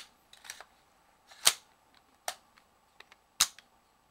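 An AR-15 rifle's dust cover snaps open during a functions check, among several crisp metallic clicks and snaps, close and sharp, spaced irregularly over a quiet background.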